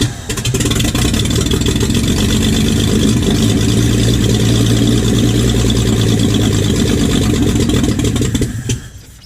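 A 1968 Chevrolet C10 truck engine runs with no exhaust fitted, a loud, raw, continuous rumble that holds for several seconds and then cuts off abruptly near the end.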